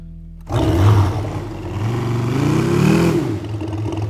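Engine of a scratch-built RC scale model of a WWII Boomerang plane, starting abruptly and then running steadily and loudly nearby with a rough, droning roar and slight rises in pitch, and no talk over it.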